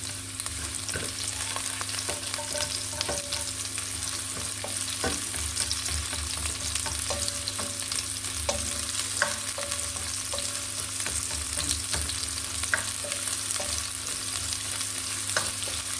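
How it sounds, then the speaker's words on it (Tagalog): Garlic and onion sautéing in a pan, a continuous close sizzle with repeated light clicks and taps from stirring throughout. "pwede natin ilagay ang sibuyas, ay bawang at sibuyas"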